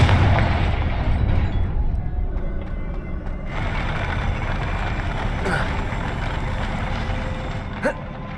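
Confringo fire spell blast in the video game Hogwarts Legacy: a heavy, booming explosion opens into a sustained loud rumble, followed by a sharp pop near the end, with no voices.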